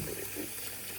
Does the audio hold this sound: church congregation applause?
no